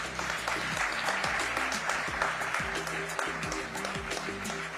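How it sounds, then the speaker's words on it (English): Audience applause for the Finance Minister at the India Ideas Summit, a steady spread of clapping from the room with a low tonal hum and some voices underneath. "Can I have a warm round of applause?"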